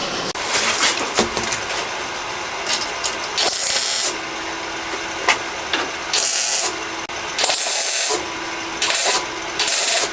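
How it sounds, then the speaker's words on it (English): Tack welding a wheel well in place on a car restoration, with repeated short bursts of crackling, hissing weld arc separated by pauses and metal handling noises, fairly close. "So I'm going to go ahead and tack it in place."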